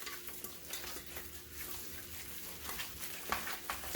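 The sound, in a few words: stirring shrimp paste by hand until sticky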